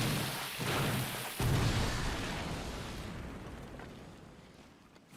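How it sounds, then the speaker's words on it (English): A bomb made from a spring, torch and spring combination in Wild Hearts goes off in a few booming bursts. A long rumbling tail then fades away slowly. "There's a combination that you can do if you do a spring, and then a torch, and then another spring. That becomes a bomb."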